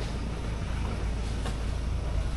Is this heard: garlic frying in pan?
no